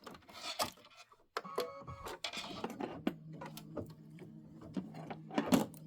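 A Kimberbell embroidery machine stitches the tack-down line around a Sweet Liberty mug rug project: handling clicks and knocks first, then a steady mechanical stitching hum with quick ticking pulses, close and moderately loud.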